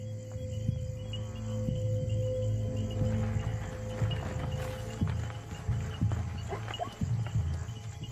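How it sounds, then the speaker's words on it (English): Hooves of a zebra herd shuffle and thud through the dark over a steady chorus of night insects, with scattered rustling and footfalls close by. "The sound of the herd draws one of the lionesses closer."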